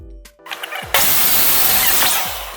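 A DIY table saw motor switches on with a sharp jump to a loud, steady high whine that holds close and then begins to ease off at the end.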